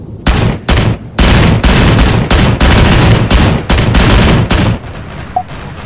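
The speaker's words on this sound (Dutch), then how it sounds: "Oh, ik word geschoten." Loud gunfire in the video game Arma 3, World War II setting: repeated close bursts and sustained automatic fire with brief gaps, alone without talk.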